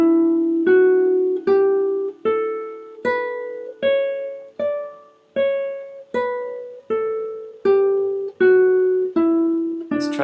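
Major scale played note by note on guitar in 7th position, about fourteen clear plucked tones ascending and descending in a steady even rhythm, each ringing briefly, close and alone without talk.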